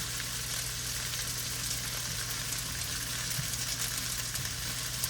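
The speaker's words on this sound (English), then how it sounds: "I'm just gonna toss them in that butter." Food sizzles in melted butter seasoned with garlic powder, a steady close frying crackle that runs unbroken and fairly soft throughout, with no voices over it.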